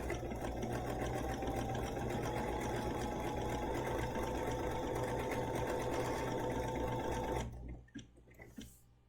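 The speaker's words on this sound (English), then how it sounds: "So I'm going to sew 1 repeat of this pattern." A Bernina sewing machine runs steadily and close up, stitching one full repeat of a decorative pattern in a continuous whirring drone that stops abruptly near the end, leaving a few faint clicks.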